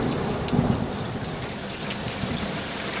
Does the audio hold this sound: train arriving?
no